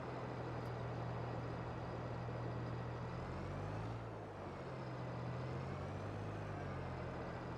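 A farm tractor towing a trailer in the Farming Simulator video game gives off a steady, close engine drone that runs without a break. Its low hum dips and swells slightly partway through.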